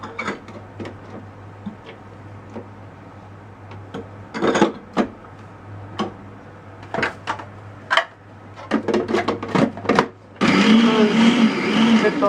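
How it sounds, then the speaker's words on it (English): Fresh tomatoes in a food processor for salsa: a series of short sharp pulses and clacks, then a loud continuous whirring chop at the end, close by with no talking. "Throw them in the food processor."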